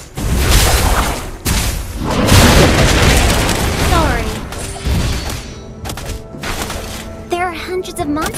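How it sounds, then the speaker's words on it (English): A turret is destroyed in a Mobile Legends match, with loud booming blasts and bursts of explosive game effects over busy music and voice announcements. "Your team destroyed the turret."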